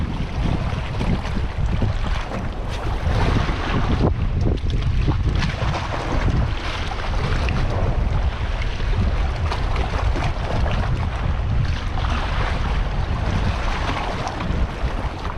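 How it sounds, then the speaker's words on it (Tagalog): Strong wind roars continuously across the microphone at sea with churning waves and water rushing beneath, loud and unbroken throughout. "Medyo lumakas na yung hangin ngayon tsaka yung alon ha."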